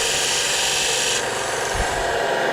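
Chisel sharpened by hand, rocked back and forth on an abrasive, producing a steady, close, loud gritty rasping scrape with no pauses and no voices.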